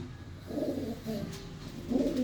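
Pigeons kept by a fancier, pure Punnu-line birds, coo in several soft, low rolling phrases, near and fairly clear over a quiet background with no talk.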